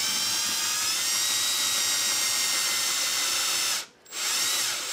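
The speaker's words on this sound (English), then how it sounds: "we're going to drill that brass down" A power drill bores steadily into a brass air fuel screw on a six-pack carburetor, a close, continuous high whine that briefly drops out near the end before resuming.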